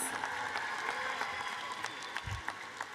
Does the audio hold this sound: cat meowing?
no